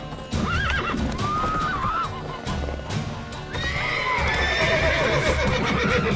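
A horse in The Witcher 3 video game whinnies repeatedly and loudly up close while its hooves clip-clop underneath, with fight noise and game sounds in the background.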